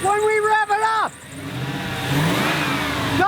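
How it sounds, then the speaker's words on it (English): Early Indiana-built truck engine revving: a rising whine with a voice over it at first, then a rougher mid-pitched engine roar swelling and holding steady, close and loud. "When we rev it up,"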